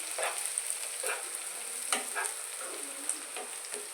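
Onions frying in a pan, a bright continuous sizzle broken by repeated scraping strokes of stirring at an uneven rhythm, close and clear with no talk.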